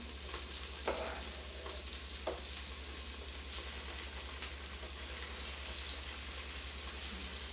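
Onions, bacon and tomatoes frying together in a pan, a soft, even sizzle with a low hum underneath and a couple of faint utensil taps.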